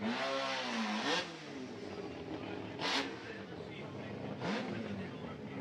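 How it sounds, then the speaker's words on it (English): A four-rotor twin-turbo drift car at a Formula Drift event in Japan screams past in several loud revving bursts, its pitch rising and falling as it sweeps by close, with brief sharp peaks between sustained engine howl. "Loud, proud, four-rotor, twin turbo coming in hot right here."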